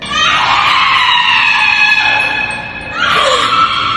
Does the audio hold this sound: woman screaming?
yes